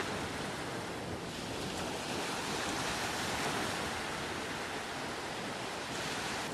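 Ocean surf breaks along a Baja beach, a continuous wash of broadband roar with gentle swells in loudness and some wind, steady and moderately distant, with no voices.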